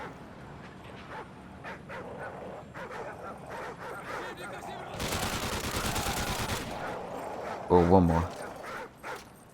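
Dogs bark repeatedly in Modern Warfare 3 Survival mode amid gunfire, with a burst of rapid machine-gun fire in the middle and someone talking over the game sounds throughout.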